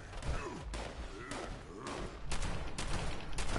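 A mutant firing a gun through a cage in Fallout 76, several sharp gunshots and bursts in irregular succession, fairly loud and close, with game noise and a player's voice in the background.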